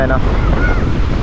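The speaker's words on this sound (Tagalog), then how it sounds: "Grabe, ang lakas po ng hangin" Strong wind gusts buffet the microphone on an open beach in a short, loud burst of rushing noise, with a brief voice at the start.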